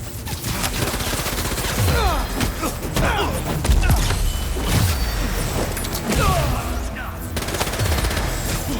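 Bursts of rapid automatic gunfire and heavy booms fill a combat scene in the Spider-Man 2 video game on PS5, loud and dense throughout with overlapping impacts.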